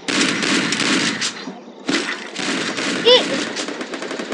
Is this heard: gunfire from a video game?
yes